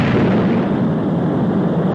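A rocket's first stage breaking away in a sci-fi puppet series, heard as a loud, sustained explosive roar with a dense low rumble that holds steady for about two seconds, then cuts off abruptly.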